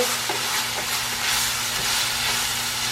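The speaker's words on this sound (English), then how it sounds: "I'm going to put in 1 teaspoon of cumin. Okay, and kind of stir that in a little bit." Cumin stirred into food frying in a pan, a steady close sizzle with faint scraping of the stirring throughout, no voices.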